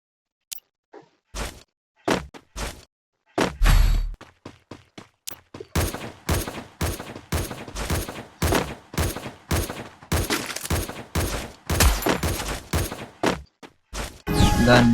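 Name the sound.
SVD sniper rifle gunfire in a video game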